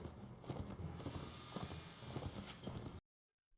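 A horse's hooves clip-clop steadily in the medieval game Mount and Blade: Warband, with a continuous busy gait at moderate loudness that cuts off abruptly to silence near the end.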